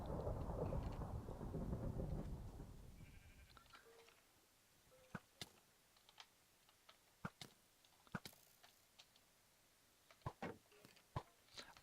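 A lightning strike's thunder in a video game realm, a broad rumble that opens loud and fades away over about four seconds, followed by quiet scattered clicks and small game noises.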